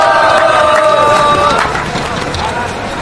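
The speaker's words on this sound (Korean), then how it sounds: "힘찬 박수로 맞이해 주시기를 부탁드리겠습니다." A crowd at an outdoor political rally against the Korea–US FTA keeps up loud cheering and applause to welcome a speaker, with a steady roar of voices and clapping that eases slightly toward the end.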